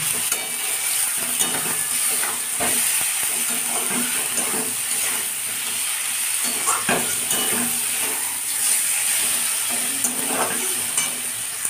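Oil sizzles and crackles steadily in a pan as eggs are fried for a Bengali egg curry, with stirring scrapes and clatters over a constant bright hiss, no talking.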